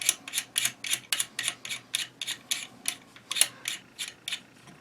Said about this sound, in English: Okay, unscrew this. Unscrew it all the way to the back.